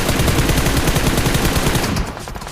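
Rapid automatic gunfire from a rifle in the battle royale game BGMI, a dense loud burst of shots in quick rhythm lasting about two seconds before cutting to quieter game ambience.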